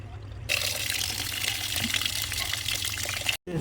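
Soaked rice for catering-scale biryani is washed under running water, a steady close splashing and gushing rush that starts abruptly and cuts off briefly near the end, with no voices over it.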